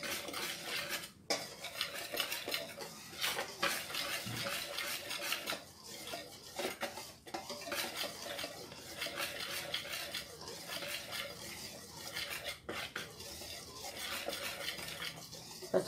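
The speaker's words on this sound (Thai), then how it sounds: "ผสมให้เข้าๆกันแล้วเราก" A spoon scrapes and clinks against a bowl while mixing batter for Thai chive cakes, a steady, busy rhythm of close metallic stirring over faint room noise.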